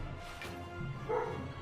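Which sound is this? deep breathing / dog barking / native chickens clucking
dog barking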